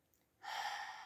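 A person takes one deep breath, a short quiet pause followed by a sudden airy inhale or exhale that holds steady to the end.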